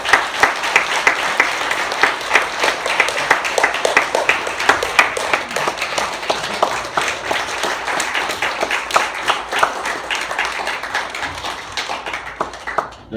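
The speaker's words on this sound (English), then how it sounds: "They're clapping for you, Chief." An audience claps steadily for a 100-year-old Pearl Harbor survivor, many hands in dense sustained applause that tapers off at the end, with no talking over it.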